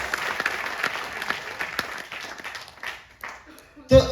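Audience at a NexMoney corporate announcement event clapping in a steady burst of applause that thins out toward the end, followed by a sharp thump.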